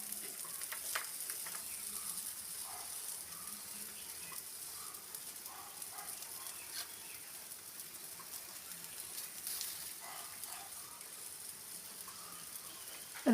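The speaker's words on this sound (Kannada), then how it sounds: "ಇದು ನಮ್ಮ ಕುಂದಾಪುರ ಶೈಲಿಯ ಮೀನು ಫ್ರೈ ಮಾಡುವ ವಿಧಾನ" Fish frying Kundapura village style on a griddle, giving a soft, steady sizzle throughout with faint crackles and occasional light spatter, fairly quiet and without talk.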